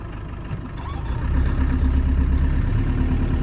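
Land Rover Defender engine, a Td5 or 300Tdi diesel, rumbles up close as it shifts into fourth gear, starting quieter and then rising to a steady, louder low drone after about a second.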